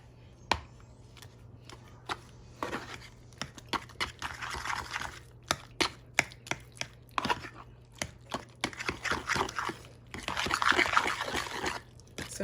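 Ingredients for a Southern-style baked spaghetti being mixed in a bowl with a fork or whisk, quick irregular tapping and clinking strokes with some wet swishing.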